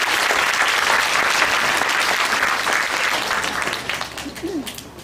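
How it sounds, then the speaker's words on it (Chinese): An audience at a primary school concert applauds a student wind band with steady, dense clapping that fades slightly toward the end, with faint voices in the crowd. "让我们掌声欢迎管乐二团。"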